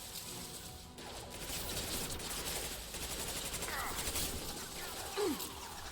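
Gunfire from a weapon in the video game Mass Effect 2, a dense rattle of rapid shots with crashing impacts that runs for several seconds. Speech and game noise sit underneath.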